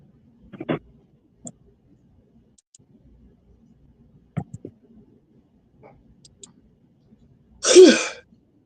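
A single sneeze bursts out sharply near the end, preceded by scattered faint clicks and taps in an otherwise quiet room.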